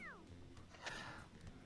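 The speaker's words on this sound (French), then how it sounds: "Ton personnage a fait un miaou en arrivant." A short cartoonish cat meow from a character arriving in the party video game Quiplash, with a rising-falling tone at the start, followed by soft game sounds and faint background voices.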